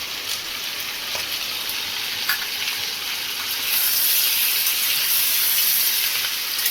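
Chicken pieces stirred in a pan on an induction cooker: a bright, steady hiss of frying that swells louder in the second half, with faint scraping touches and no speech.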